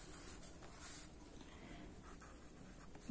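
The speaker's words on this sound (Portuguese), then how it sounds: "Eu vou escrever aqui." Marker or chalk writing a short word on a board, faint scratchy strokes at low level with no talk.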